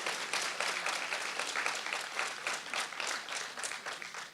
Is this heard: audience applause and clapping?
yes